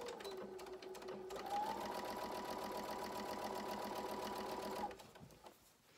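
A sewing machine stitching a 100% cotton gaiter with a filter pocket, running at a steady, rapid, mechanical whir for about four seconds before slowing and stopping.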